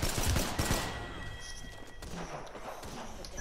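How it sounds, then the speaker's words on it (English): Sniper gunfire in the Apex Legends video game, sharp cracks near the start followed by scattered distant shots amid game noise, with a voice murmuring faintly underneath. "We're getting sniped by another team"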